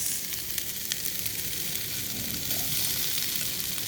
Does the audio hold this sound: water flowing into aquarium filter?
no